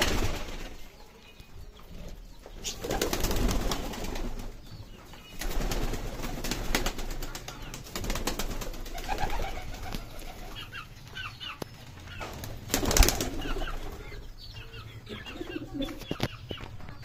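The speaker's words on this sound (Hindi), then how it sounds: "कबूतरों को बाहर निकाल देते हैं थोड़ी देर के लिए" Pigeons in a home coop coo steadily and close by, broken by sudden bursts of flapping wings as the birds are let out for a while.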